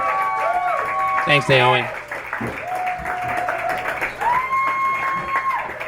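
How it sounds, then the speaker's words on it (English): Audience applause for comedian Naomi Kaye at a Brooklyn stand-up comedy show, a steady wash of clapping running throughout with a voice speaking over it. "Please give her a warm round of applause"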